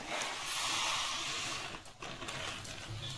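Milk is poured into hot roasted semolina in a pan for sheera, giving a loud, steady sizzling hiss that fades and then bubbles near the end.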